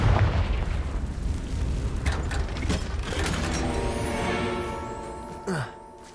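A Confringo fire spell explodes in the video game Hogwarts Legacy, a loud sustained blast with rumbling, crackling debris that trails off, ending in a short sharp burst.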